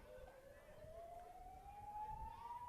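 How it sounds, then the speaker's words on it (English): A rising siren marks half-time at a junior girls' touch football game in New South Wales. It is one long tone that climbs slowly in pitch, faint and distant above low field noise. "And there's the siren for half-time."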